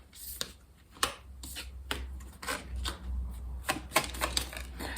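Tarot cards being drawn and laid out one after another, giving a string of crisp flicks, slaps and shuffling snaps in uneven bursts, close and fairly quiet against a low steady hum.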